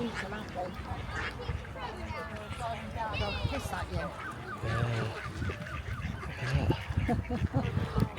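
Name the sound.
flock of ducks being fed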